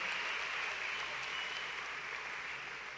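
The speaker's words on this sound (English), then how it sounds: "y'all deserve a great round of applause" Distant, faint applause from a crowd at a college graduation ceremony, a soft continuous wash of clapping heard from afar with no clear individual hands.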